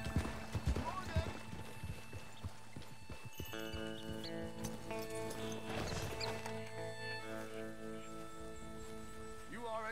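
Rhythmic hoofbeats of a horse clip-clopping along in the video game Red Dead Redemption 2, with a brief whinny, set against music and people talking throughout.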